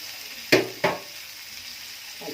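Beef tripe frying in a pan with salt, cumin, dried coriander and black pepper gives a low steady sizzle, broken by two sharp nearby scraping bursts early on.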